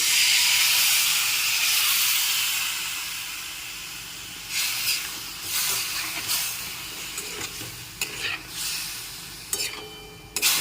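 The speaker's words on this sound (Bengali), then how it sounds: "এখন জল দিয়ে দেওয়ার পর এক মিনিট ফুটিয়ে নিয়েছি" Raw mango chutney simmering in a pan after water is added, a loud hissing sizzle that fades into softer bubbling, with scattered scrapes and clinks of stirring toward the end.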